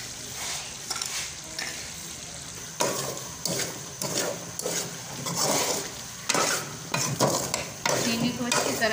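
A spoon stirs chana dal halwa with sugar in a pan, scraping and churning with a soft sizzle underneath, in steady repeated strokes up close.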